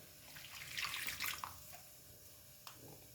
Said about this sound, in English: Now we'll add water